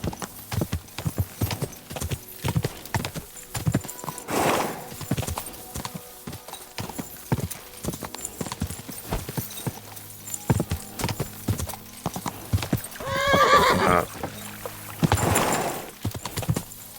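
Hooves clip-clop in a fast, steady gallop during a horse race in Kingdom Come: Deliverance II, with a couple of louder whinnies or snorts near the end and faint talk underneath.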